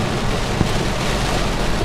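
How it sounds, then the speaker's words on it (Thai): Heavy rain on a road near Karon and Kata beaches in Phuket, a loud, steady broadband hiss of pouring water with no voices, continuous throughout. "เจอฝนนี้แล้วครับ"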